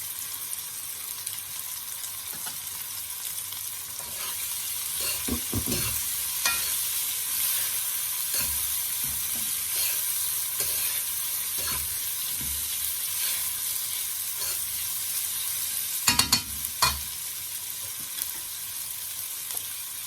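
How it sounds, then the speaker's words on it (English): Onion frying in a pan while making coconut milk curry shrimp, a steady close sizzle with occasional scraping stirs and a couple of louder clatters. "I'm going to start to add my onion."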